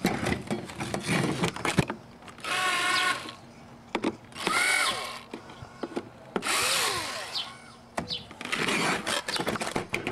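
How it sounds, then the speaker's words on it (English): A power drill loosening screws on a concrete garden paver mold whirs in several short bursts, revving up and down between pauses, close by with some scraping and handling noise. "Use the drill and loosen the screws around the mold."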